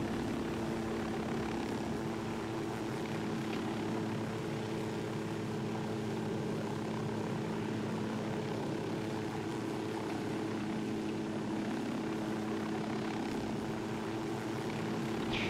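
A helicopter flies in the Ghost Recon video game, giving a steady, loud rotor and engine drone that holds unchanged throughout with no voices.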